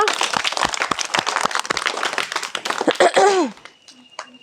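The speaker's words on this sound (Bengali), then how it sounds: "সবাই হাততালি দাও ওর জন্য" Children in a classroom clap for a classmate, a busy patter of applause mixed with chatter and a voice, then the clapping cuts off abruptly, leaving near quiet.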